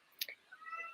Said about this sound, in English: sorry, that's my cat. She's meowing at